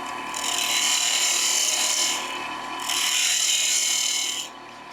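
A woodturning lathe spins a wooden bottle stopper on a bushing while a hand tool cuts it, giving a loud, close, hissing scrape in two long passes with a short break between and a quieter hum after.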